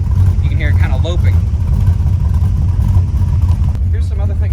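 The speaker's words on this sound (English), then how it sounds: "now you can kind of hear the cam, which I like. You can hear it kind of loping." A tuned truck engine idles with a loping cam, a steady loud low rumble running throughout while someone talks over it.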